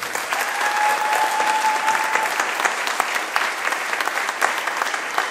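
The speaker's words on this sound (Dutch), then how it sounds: "Ik wil heel graag nog eens een daverend applaus" Audience applause at a farewell moment of a concert, a dense, steady clapping from a crowd lasting throughout, with a faint tone briefly ringing above it.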